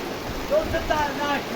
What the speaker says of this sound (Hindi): बारिश चेक करें, बारिश बहुत तेज़ हो रही है